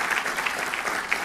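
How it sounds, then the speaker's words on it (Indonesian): A church congregation claps together in praise during a sermon, with brief, steady, moderately loud applause and no voices over it. "Tepuk tangan buat Tuhan."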